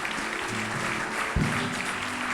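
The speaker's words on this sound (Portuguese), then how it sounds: "Vamos aplaudir nosso Deus" Church congregation applauding during a worship service, a steady wash of clapping from many hands with a brief louder burst partway through, heard over sustained low musical tones.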